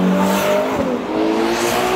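The 6.5-litre V12 of a 2024 Ferrari Purosangue runs loud and close, a steady, rich engine drone with a slight dip in the middle before it carries on strongly.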